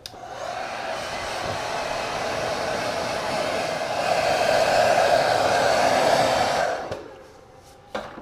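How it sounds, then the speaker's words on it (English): A hair dryer blows steadily at close range onto freshly sprayed primer on a car dash part, with a loud, even whoosh for about seven seconds, then cuts off, leaving quiet room sound. "I'm gonna promote the dryness by hitting with the air dryer"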